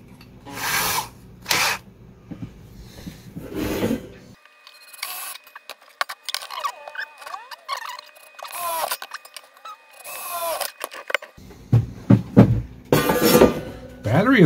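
A power drill whirs in several bursts while repairing a 12-volt battery charger, its pitch rising and falling as it bites, with mechanical clicks and rattles between runs.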